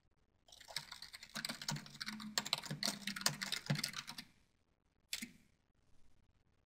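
Brisk typing on a computer keyboard while entering a short one-line support ticket description, a steady run of close clicking keystrokes for about four seconds, then a single sharp key tap and a faint final click.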